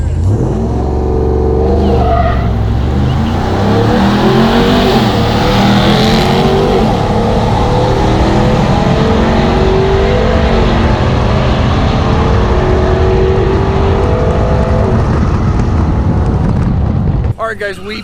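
A RAM TRX truck hard-launching at a night drag strip, its engine roaring loud and sustained with a rising rev sweep, heavy low rumble filling the run, with some voices mixed in underneath.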